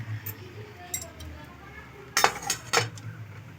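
Plates and utensils clink and scrape in a home kitchen as a plate is readied for serving semolina pulao, a few sharp close knocks amid quiet background.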